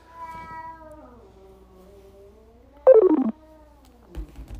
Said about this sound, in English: Hear the cats? The cats are going crazy.